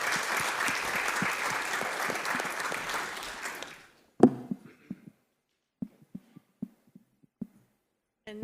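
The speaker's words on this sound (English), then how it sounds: "A round of applause for him." Conference attendees at an airspace and operational efficiency session applaud a speaker, a full round of clapping that stops abruptly, leaving a few scattered thumps and knocks in near silence.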